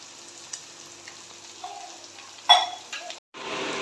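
Dry fish frying in hot oil for a Tamil home meal, a quiet continuous sizzle with occasional sharper crackles and a louder burst of spattering near the end.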